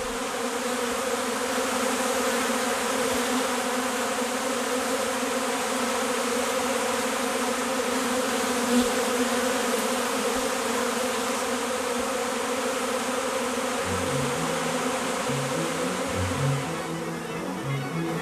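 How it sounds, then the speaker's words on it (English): Dense, steady buzzing of a honey bee swarm lifting off from a hive box, a loud continuous drone of many wings filling the scene without pause, with no voices present. "The swarm, with the queen in its midst, rises from the box and continues its journey to a new and unknown destination."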